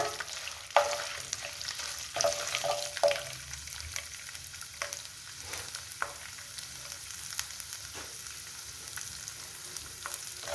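Peeled garlic and asafoetida fry in hot oil with a soft, steady sizzle, broken by intermittent scrapes and taps of a stirring spoon against the pan, close and fairly quiet.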